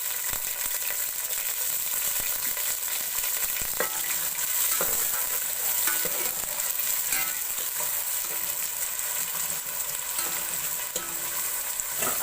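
Sliced onions fry in hot oil as they are browned for achar gosht. A steady, even sizzle runs through the whole stretch, with occasional scrapes and stirring knocks and no talking.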